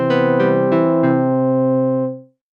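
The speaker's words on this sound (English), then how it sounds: "I've got a polymer instrument loaded up and it sounds like this." Polymer software synthesizer sounding a bright, harmonically rich sustained chord, re-struck in quick succession, then holding steady before fading out near the end; loud, close, no talking.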